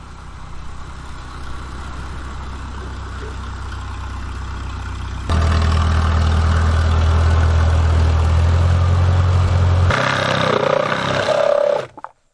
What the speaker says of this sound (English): Alright, all the posts are cut, and now Doug is bringing the tractor over.